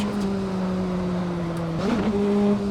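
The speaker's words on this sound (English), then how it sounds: "Oh, that was a bad downshift." A race car engine in a racing sim during a bad downshift, a steady droning hum whose pitch dips and wobbles briefly near the end before settling again, with no voices.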